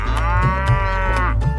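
A long, loud cow moo from a Hindi nursery rhyme, held steady for over a second over a steady musical backing, with no talking.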